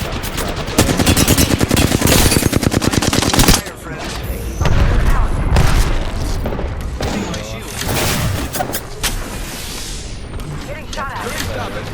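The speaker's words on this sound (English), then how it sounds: "Getting shot at." Rapid automatic gunfire rattles in dense bursts during a firefight in the video game Arrxy Winter Express, loud and continuous for a few seconds before easing into scattered shots, explosions and background action.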